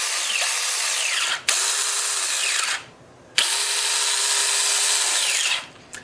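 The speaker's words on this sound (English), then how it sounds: "I'm going to trim my nose hair." An electric nose hair trimmer, a novelty shop gift, runs in a loud steady whine, cutting out briefly twice and restarting, with no talking over it.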